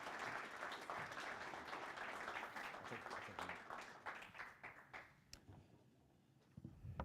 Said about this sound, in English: About one more round of applause for Judd Silverman and Chris Peterson.